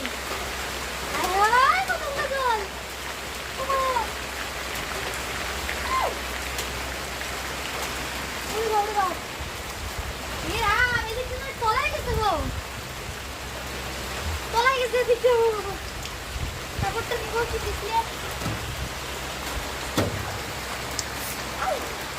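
Steady heavy rain pours down in a continuous broadband hiss throughout, with people talking intermittently over it, around a house flooded knee-deep by overnight rain.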